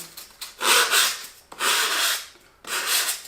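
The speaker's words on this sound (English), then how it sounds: "So I take this nice sanding tool." A hand sanding tool rubs back and forth over a wooden model medieval tower in three close, raspy strokes separated by brief pauses.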